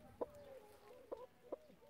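A hen gives three short, sharp clucks spaced about a second apart, close and fairly loud, with quiet background between them.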